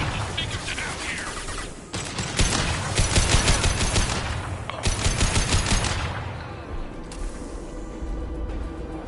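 Sustained automatic gunfire in the Mass Effect video game crackles in dense bursts, loud and close, with brief lulls around two and five seconds before the shooting thins out toward the end.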